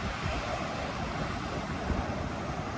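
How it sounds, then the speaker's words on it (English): Ocean waves surge at Pot Alley Gorge in Kalbarri National Park, Australia, as a continuous dense roar of surf mixed with wind, heard from a distance with no voices. "Look at those waves."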